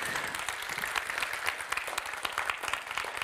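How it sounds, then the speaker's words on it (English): A conference audience at an equality data event claps in a steady, moderate wash of many hands, heard slightly distant and without talk over it. "Isn't that worth an applause?"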